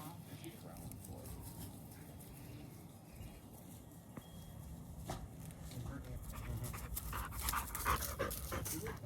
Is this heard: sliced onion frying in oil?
no